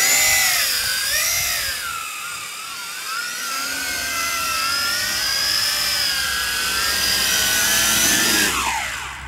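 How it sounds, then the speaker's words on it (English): A Tarantula X6 quadcopter drone lifts off and hovers nearby, a loud steady high-pitched whine of motors rising and falling in pitch as it maneuvers, fading slightly at the end. "this is standard quadcopter"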